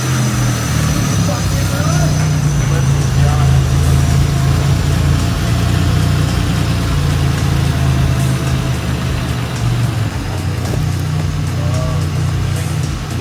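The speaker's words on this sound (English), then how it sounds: "it's a little bit of a rough idle, but it started." Chevrolet Lumina race car engine idling roughly, a loud, continuous low rumble with an uneven, lumpy pulse that holds steady throughout.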